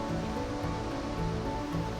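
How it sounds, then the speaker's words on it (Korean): Water flowing under Jamsil Bridge on the Han River in Seoul at night, a steady, even rushing wash with no breaks and no voices. "잠실대교와 수중부에 흐르는 물소리"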